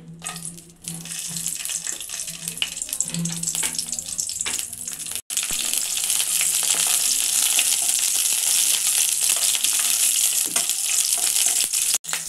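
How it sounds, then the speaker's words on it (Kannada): Four dry red chillies and three green chillies hit hot oil in a pan for a chicken sambar, giving a loud, steady, close hiss and crackle of frying that swells and holds strong through the second half. "ಫಸ್ಟ್ ಮೆಣಸಿನ್ಕಾಯಿ ಹಾಕ್ತಾಯಿದ್ದೀನಿ."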